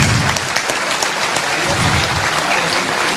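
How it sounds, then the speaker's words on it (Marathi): An audience at a Buddhist Dhamma talk in Mumbai breaks into loud, sustained applause, dense clapping that fills the room without letup for a few seconds. "एकदा जोरात टाळ्या होऊन जाऊ द्या."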